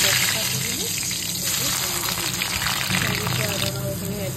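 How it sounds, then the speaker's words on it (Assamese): Bay leaves sizzle in hot mustard oil in a kadai while a duck fry is being cooked, giving a steady close crackle and hiss throughout, with a voice talking over it. "কেৰাহী গৰম হ'লত মই তেজপাত দি দিলোঁ,"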